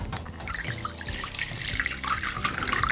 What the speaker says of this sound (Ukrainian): Прямо до неї будемо змивати. Звичайною водою з-під крану.